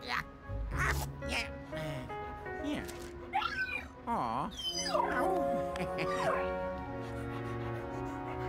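In Luigi's Mansion 3, a dog yips, whimpers and gives wavering whines amid game music and effects, with a person speaking over part of it.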